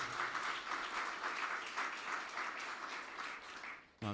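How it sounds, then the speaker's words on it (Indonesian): A church congregation at a Sunday worship service claps for Jesus, a steady wash of applause from many hands that fills the room for about four seconds before briefly dropping away and resuming. "Beri tepuk tangan buat Tuhan Yesus."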